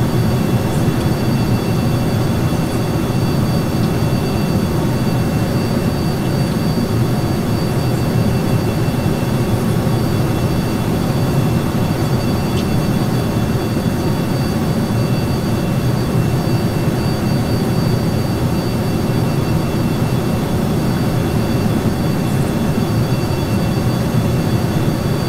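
Space shuttle rocket engines roar in Kerbal Space Program during lift-off, a steady, loud, unbroken thrust noise with no speech over it.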